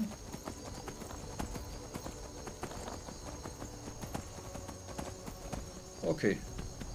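A horse gallops in Skyrim, its hooves drumming in a steady, fast clip-clop rhythm at moderate volume against a hushed game backdrop, with a brief whinny-like flourish near the end.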